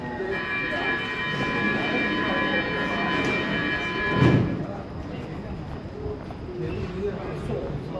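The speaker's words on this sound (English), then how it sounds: "The southbound train is arriving" A metro train rumbles into an island platform station with steady mechanical drone and tonal whine, a brief louder burst midway, and murmuring voices in the background.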